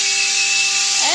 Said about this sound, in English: The next step is using my hand mixer to mix it all up.